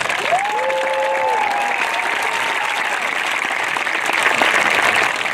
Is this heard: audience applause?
yes